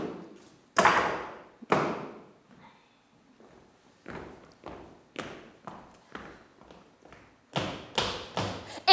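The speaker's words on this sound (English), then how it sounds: "Amphitruo knocks at the door." Knocking on a door during a staged performance of a Roman comedy, heard as a sequence of sharp wooden knocks in irregular groups, fairly loud and close, with no talk over them.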